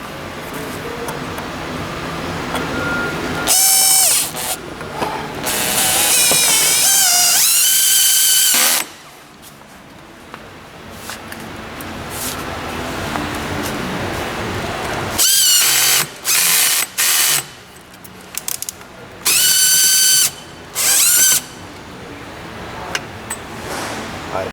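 Power drill driving screws into the backrest bracket of a massage chair, loud bursts of whirring and ratcheting repeated several times with quieter handling noise between.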